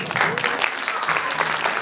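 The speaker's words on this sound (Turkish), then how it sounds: "Kabe gösterimiz için kocaman bir alkış alıyoruz ama kocaman olsun." An audience claps loudly and continuously at a kindergarten year-end show, the dense applause filling the whole short moment, with voices faintly audible underneath.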